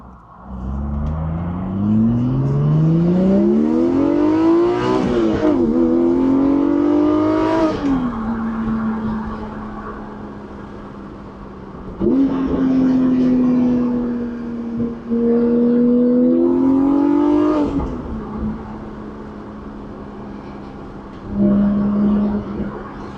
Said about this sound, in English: Alright, so this is going to be a short video because it's just exhaust,